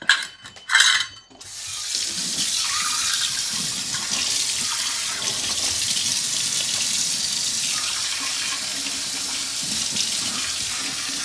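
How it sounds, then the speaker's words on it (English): Running tap water pours steadily into a kitchen sink as a teaspoon is rinsed, a continuous close rush lasting most of the clip after a few brief clatters at the start. "I'm gonna go ahead and rinse this out"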